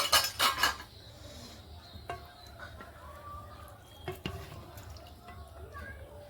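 Metal utensils clatter against plates and a pot as more dal is served during a meal. A quick burst of clinks opens, followed by a few scattered sharp taps, with people talking.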